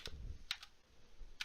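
A short burst of computer keyboard typing, a few crisp, close key clicks spaced irregularly, with quiet pauses between them.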